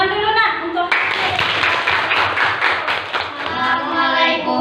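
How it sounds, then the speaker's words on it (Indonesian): A group of children claps hands in a quick, uneven patter lasting a few seconds, with voices talking over it before and after. "Tepuk tangan dulu, Nak"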